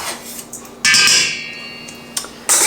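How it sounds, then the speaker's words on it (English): A bowl grabbed in a home kitchen while elderberry syrup is made: sharp clinks and clatter of dishware, with one loud ringing knock, a quieter tap and a final clatter. "Let me grab a bowl quick."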